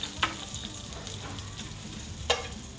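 Butter sizzles in a pan over a camp stove outdoors, a soft steady frying hiss with a couple of sharp clinks from a utensil against the pan, fairly close and without talk.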